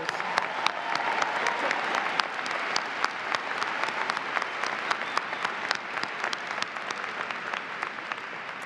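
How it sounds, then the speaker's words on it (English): An audience at the Siena College 2019 commencement ceremony applauding, a dense, steady wash of many hands clapping in a large space for several seconds, with no break and only a faint murmur. "Let's give a round of applause for the AKA members."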